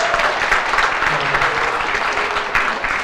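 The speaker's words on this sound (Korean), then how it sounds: "큰 박수 부탁드립니다" Steady applause from a crowd at a business presentation, dense and continuous throughout, with a faint voice briefly audible underneath.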